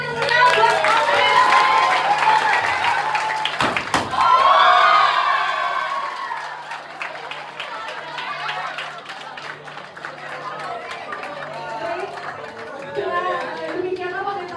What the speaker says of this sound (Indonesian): Sekali lagi saya mohon kasih tepuk tangan yang meriah buat Alfred